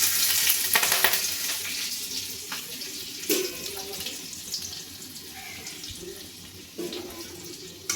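Dried chili halves, black cumin and chopped garlic spattering in hot oil with a little water in the tempering, a steady crackling hiss with a few sharp pops, close and fairly quiet, no talking.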